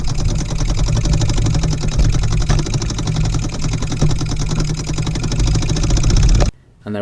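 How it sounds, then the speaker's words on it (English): A Mamod TE1A toy steam traction engine runs steadily, a loud rapid mechanical chuffing and rattle heard up close, continuous for over six seconds before cutting off abruptly. "upgrading, firing and running process of Mamod's TE1A traction engine"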